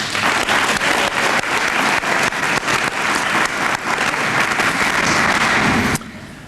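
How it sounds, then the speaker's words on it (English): An audience at a fine arts awards ceremony breaks into dense, loud applause that holds steady for about six seconds, then cuts off abruptly to a quieter room. "I'd like to give her a round of applause"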